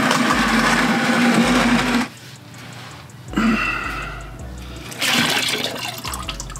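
Coolant gushes from a Subaru WRX radiator during a radiator and hose swap, a loud rushing pour in strong bursts separated by quieter, softer trickling gaps.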